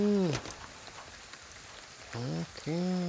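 Rain falls steadily in the video game Ghostwire: Tokyo, a soft, even patter over the whole stretch, while someone talks over it in short bursts.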